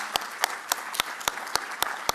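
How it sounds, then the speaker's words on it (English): Applause from an audience at a press briefing, sharp evenly spaced claps at a steady rhythm, fairly near and alone, like one or a few people clapping. "give this guy a big round of applause"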